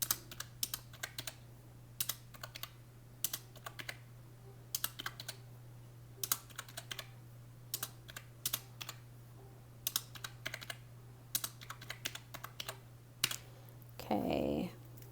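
Keys clacking on a clicky keypad in scattered short bursts over a steady low hum, with a brief rustle near the end.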